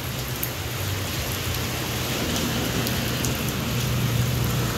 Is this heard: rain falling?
yes